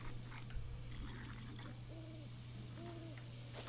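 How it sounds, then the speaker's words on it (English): An owl in the video game Breath of the Wild gives two soft, low hoots a second apart over a faint ambient hum. "Is that just the owl?"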